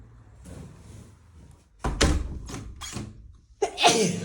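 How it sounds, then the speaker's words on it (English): A door in a house is closed during a move-in inventory, giving a heavy thunk followed by a latch click and rattling handling sounds, close by and moderately loud with little else around. "So I'm going to close the door and head up."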